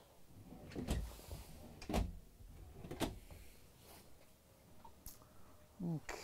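Several deep drawers in a 2023 Renegade Classic 38CSB motorhome slide and bump shut in turn, with sharp knocks about once a second and faint background noise in between.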